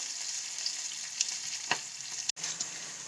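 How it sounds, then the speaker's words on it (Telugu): Onions frying in a pan for a country chicken curry give a steady close sizzle with scattered crackles and pops, plus one brief break near the end. "వేగుతూ ఉన్నాయండి."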